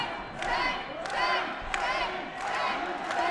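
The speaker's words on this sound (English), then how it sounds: "Crowd chanting. Sten is what I'm hearing." A fight-event crowd chanting a fighter's name, Sten, in rhythmic repeated swells roughly every second, loud and reverberant in the arena with a commentator's voice underneath.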